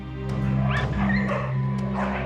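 Stray dogs yipping and whimpering close by, several short overlapping cries from more than one animal over a steady low hum.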